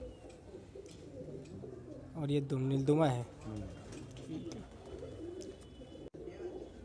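Madrasi pigeons coo close by in a short rolling burst partway through, amid low background bird sounds, while someone talks over them.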